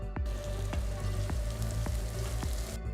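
Onions with green chillies and curry leaves sizzle steadily in hot oil, a close, continuous crackle, with a spoon knocking the pan every half second or so.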